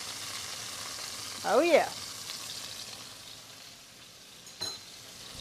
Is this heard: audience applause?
no